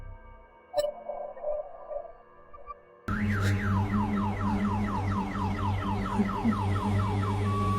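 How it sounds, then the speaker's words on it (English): A car alarm goes off with a loud, rapid, repeating electronic warble. It starts abruptly after a quieter stretch and keeps sounding close by until the end. "His car alarm goes off."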